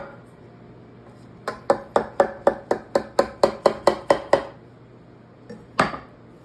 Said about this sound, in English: Use a nice sharp knife. Make sure you cut through everything in there.